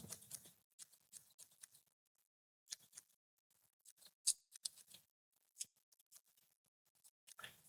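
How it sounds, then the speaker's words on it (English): Scissors trimming fly-tying material into a more streamlined shape: a quiet, close series of short, crisp snips in irregular bursts with brief pauses between them. "I'm just trimming to make this a bit more streamlined."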